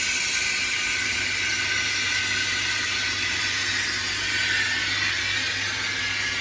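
Steady hiss and whir from a 2006 Fanuc 0iC wire EDM machine sparking with flushing running in a filled tank, a continuous even noise with a low hum underneath and no breaks.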